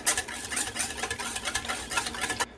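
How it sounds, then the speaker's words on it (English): A whisk beats one egg with cream in a bowl, a quick, steady run of scraping strokes, fairly quiet and close, that stops abruptly at the end. "So we're going to whisk it together."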